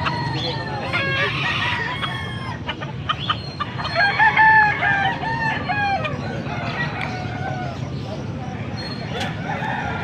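A rooster crows several times at moderate distance at a market in Bocaue, with other fowl clucking and faint voices talking in the background.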